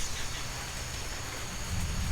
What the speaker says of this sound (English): Lightning bolts and thunder crashes